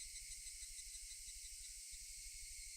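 Cicadas crying in the world of Higurashi: When They Cry Hou, a faint, steady high-pitched shrill buzz with a soft low pulsing underneath, continuous throughout.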